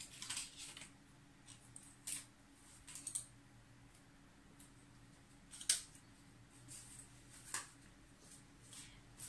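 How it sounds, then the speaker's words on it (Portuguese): Scissors snip a short piece of double-sided tape for a handmade lidded box with a window, giving faint, sharp isolated clicks spaced a second or two apart over a quiet background. "Um pedaço curto, eu vou cortar na tesoura mesmo."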